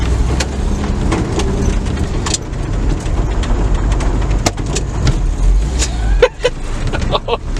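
A 1970 Ford F100 pickup on a road test drive, its engine and road noise rumbling steadily throughout from inside the cab, with a few brief clunks and knocks near the end and no talk.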